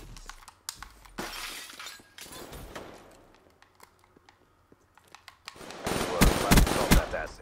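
An M8A7 assault rifle with long barrel, quick draw and rapid fire fires in Black Ops 3, in short, crackling bursts mixed with sharp impact and shattering sounds, ending in a louder dense volley.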